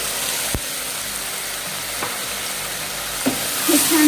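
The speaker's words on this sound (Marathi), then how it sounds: "जोपर्यंत ग्रेव्हीचा हे कांदा टोमॅटोचा कलर चेंज होत नाही तोपर्यंत याला परतून घ्यायचं आहे" Onion-tomato paste for mushroom masala sautés in a pan with a steady, close sizzle, broken by a few sharp scraping clicks of stirring near the end.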